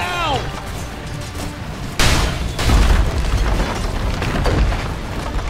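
Barracks collapsing in Dota 2: a sudden loud boom followed by a rumbling crumble and layered explosion-like debris, amid ongoing game combat noise.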